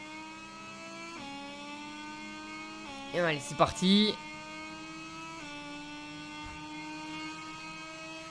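A MotoGP 21 race bike on the Losail circuit drones at a steady high engine pitch, with gear-shift steps and a sharp rev burst near the middle, while a voice talks briefly over it.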